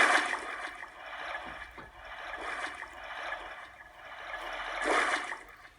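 A Technics SX-K700 synthesizer's wave effect: a broad rushing wash of water noise that swells and recedes in slow surges, with a stronger surge near the end, alone without voices.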